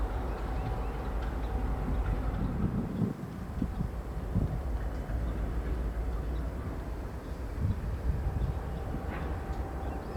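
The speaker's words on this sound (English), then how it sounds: "the EDBF heads back east into the yard, where they'll pick up 4 loads, then head north to Bellows Falls" Freight train heading east into a rail yard, a steady low rumble and rolling clatter carried under constant wind noise, moderately distant, no voices.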